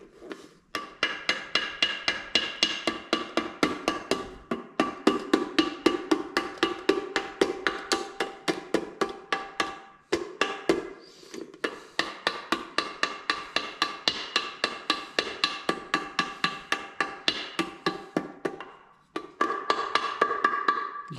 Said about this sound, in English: You can also use the flat side of the hammer.